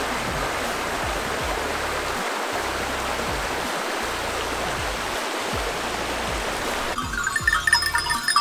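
River stream flowing through a gorge near Preveli Palm Beach on Crete, a steady broadband rush of water continuing throughout, with a rougher, more turbulent splashing texture toward the end.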